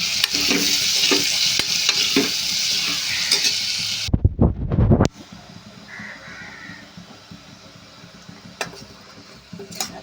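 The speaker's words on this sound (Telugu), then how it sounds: "ఇప్పుడు ఉల్లిపాయలు అయితే వేసుకుని ఫ్రై చేసేసుకున్నామండి" Onions and green chillies fry in hot oil with steady stirring and scraping in the pan, the sizzle loud at first, broken by a brief loud clatter mid-way, then continuing more softly.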